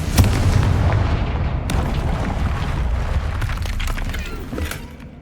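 A Confringo spell in the Hogwarts Legacy video game blasts through a barrier with a loud, close explosive boom, followed by sustained rumbling and crumbling debris that slowly fades.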